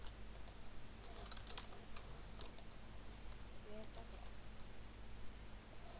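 Quiet clicking of keys on a computer keyboard, irregular light taps in short clusters over a low steady hum, faint and close.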